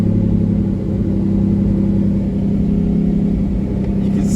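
A 1999 Lamborghini Diablo Roadster engine idling, a steady low rumble with a slightly uneven, bouncing tone, loud and near throughout with no other sounds over it.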